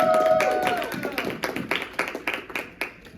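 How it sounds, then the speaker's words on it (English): Scattered hand claps ring out in a modest, uneven burst of audience applause at an anime convention, thinning toward the end, with a few voices in the background. "Please give a very warm welcome and applause to Rated R for Ray and Wolfie Kingston."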